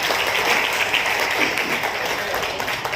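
Enthusiastic applause for a student at a Unani Day ceremony at a resort in Dhule, a dense sustained crowd clapping that stays loud throughout the short stretch, with no voices over it.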